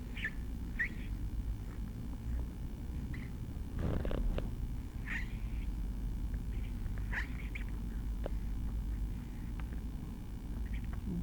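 A cat purring in a steady low rumble close by, with a few faint high chirps or meows scattered over the continuous purr.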